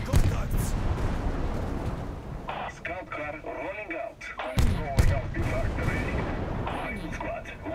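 Heavy mortar fire and explosions pound an enemy HQ in the base-building RTS Global Conflagration, a dense, continuous rumble of booms and blasts with warbling effects layered over it.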